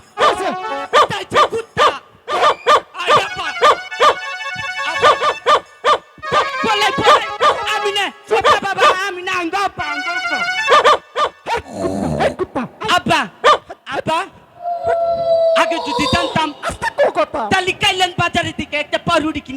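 A dog barks in repeated sharp bursts during a rowdy comedy skit about a thief, close and fairly loud, mixed in with people talking and shouting over it.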